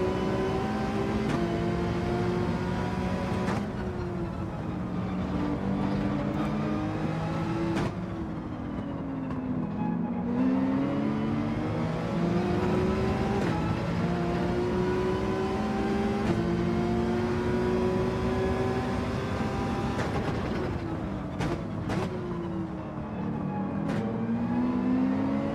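A race car engine in Gran Turismo 7 holds a sustained drone that climbs and falls in pitch as the throttle rises and eases while the tyres are warmed. It stays loud and continuous, with brief sharp shifts.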